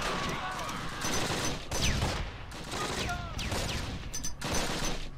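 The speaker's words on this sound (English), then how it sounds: "Oh, sound of grenades going out." Grenades explode in the Close Combat World War II video game: a loud, continuous clatter of blasts and gunfire with a voice talking over the action.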